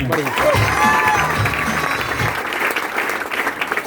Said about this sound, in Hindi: उन्हीं के माध्यम से पहले तो उनके लिए जोरदार तालियां चाहूंगा।